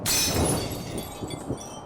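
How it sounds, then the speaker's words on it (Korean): A fluorescent lamp falls to the floor: a sharp glassy crash bursts out at once, then scattered tinkling and clinking fragments settle over the next moment or so. "방 제일 안쪽 형광등이 쨍그랑 소리를 내며 바닥에 떨어졌다."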